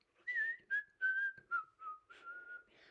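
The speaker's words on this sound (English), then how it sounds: "I'll go in a big crowd in public, and I'll just start whistling" A clear, melodic whistled tune, close and solo, moving through a series of sustained and sliding notes with short breaks between phrases.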